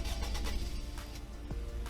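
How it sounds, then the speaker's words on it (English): A 2012 Honda Crosstour engine cranks and catches, settling into a low steady idle, heard close and fairly quiet. "Here you goes the startup"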